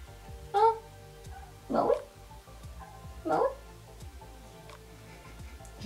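A pet cat meows three times in short, clear calls spaced across a quiet indoor room, close to the listener, with no talking over them.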